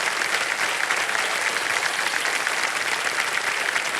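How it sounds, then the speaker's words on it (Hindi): Studio audience applause on the quiz game show Kaun Banega Crorepati after a contestant wins a prize cheque, an even, continuous roar of clapping throughout. "तालियां बजती ना।"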